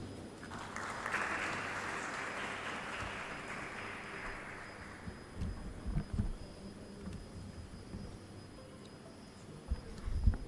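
Audience applause at a world conference on consciousness, a broad wash of clapping that swells at the start and gradually thins out, with scattered louder claps and shuffling near the end.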